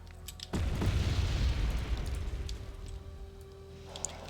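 Heavy bombs detonating in the Wargame: Red Dragon strategy game, one big deep boom at the start rolling into a long rumbling roar that slowly fades over a sustained low drone, with faint distant pops near the end.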